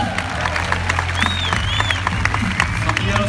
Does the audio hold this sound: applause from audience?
yes